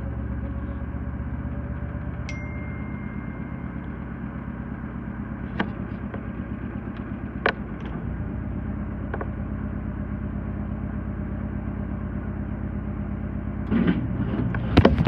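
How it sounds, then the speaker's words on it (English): A 2015 Whirlpool Cabrio washer running its spin cycle, holding a steady low motor hum and drum rumble throughout, with a few sharp clicks along the way and a brief rise in activity near the end. "it ramped back up, but now it's only doing low speed spin"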